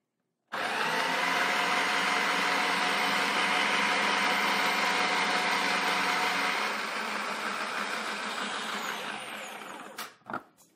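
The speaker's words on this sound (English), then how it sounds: "I'm going to put in the ribbon cutter just by twisting and turning, locking it into place. Now what I'm going to do is I'm going to put the cucumber back in." An electric spiralizer fitted with a ribbon cutter runs in a loud, steady whir as it cuts a cucumber into ribbons, then winds down and stops with a few clicks at the end.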